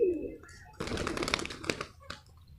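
A soft coo from a female pigeon opens the clip, followed by rustling and fluttering noises nearby.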